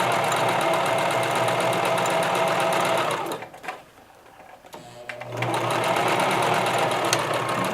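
A sewing machine stitching appliqué onto fabric runs in a steady, fast, close mechanical whir, stops briefly for about a second, then starts up again at the same pace.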